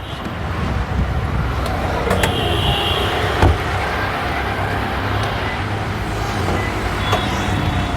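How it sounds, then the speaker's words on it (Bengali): A Toyota Premio car engine idling, a loud steady low rumble close by with occasional faint clicks and higher tones from the surroundings. "গাড়ি স্টার্টে আছে, সম্পূর্ণ কোনো নকিং নেই"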